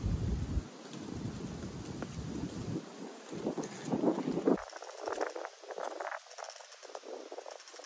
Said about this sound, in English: Hopefully the wind's not too bad for you guys